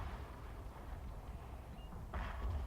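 Distant artillery fire and explosions in the video game Fall of the Samurai rumble low and faint, with a sharper blast near the end.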